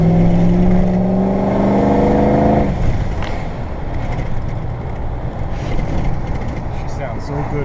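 A Ford Powerstroke 6.0 diesel truck engine roars, its pitch climbing as it accelerates hard, then it shifts into a rougher, broadband rumble at wide open throttle, loud and close.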